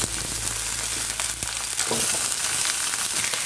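Eggplant frying in leftover oil in a pan, a steady, close, loud sizzle that runs unbroken throughout, with no voices heard.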